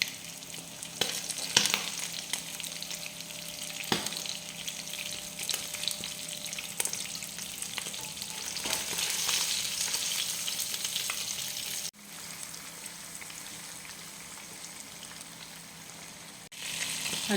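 Karimeen pearl spot fish fry in a pan, a loud, continuous bubbling sizzle with occasional stirring clicks and taps, close and steady throughout.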